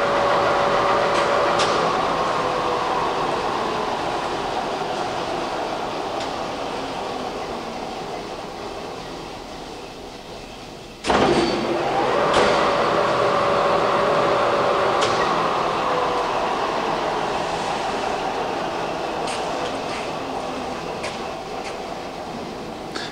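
A 34"/44" x 60" Mazak gap bed lathe runs in its high speed range, giving off a steady mechanical whir and hum with a sharp clunk partway through, after which the whir carries on at a similar level.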